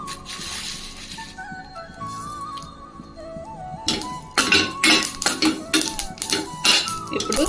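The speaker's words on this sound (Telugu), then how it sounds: "పల్లీలు అయితే కొంచెం వేగినాయి అందులోనే నువ్వులు వేసుకుందాం" Peanuts and sesame seeds roasting in a pan: a sizzling hiss at first, then a run of sharp, irregular scraping and clinking strokes from stirring against the metal. A thin tonal hum runs underneath.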